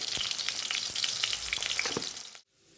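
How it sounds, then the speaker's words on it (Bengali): Potatoes fry with a pinch of salt in a hot pan for khichuri, giving a steady, loud sizzle with scattered crackles that stops abruptly near the end. "লাল লাল করে ভেজে নেব, একটু লবণ দিয়ে।"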